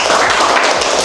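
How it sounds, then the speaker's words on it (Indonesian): Police cadets in a classroom clap for classmates who scored 100 on a pretest, a dense, loud burst of many hands clapping together at close range. "Tepuk tangan dulu dong yang 100."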